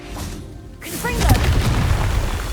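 A Confringo blasting spell detonates in Hogwarts Legacy, a loud booming burst that swells and rumbles for over a second after a brief spoken cast.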